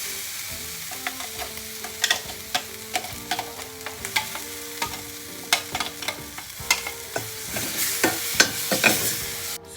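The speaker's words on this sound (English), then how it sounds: "I'm adding the chutney back into the pan" Onion tomato chutney sizzling in a pan while being stirred, with a soft steady fry beneath repeated sharp spoon scrapes and taps that grow busier toward the end, close and alone with background music.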